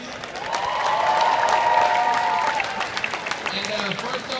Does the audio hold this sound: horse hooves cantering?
no